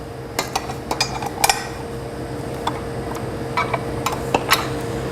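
A paddle attachment being fitted onto a stand mixer, with a series of sharp metallic clicks and clinks scattered irregularly over a low background hum.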